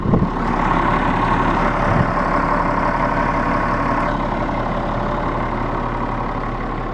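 A Kenworth T300 dump truck with a Cat engine, around 7.2 liters, settles into a loud, steady, low diesel idle just after starting, close by, with no talk.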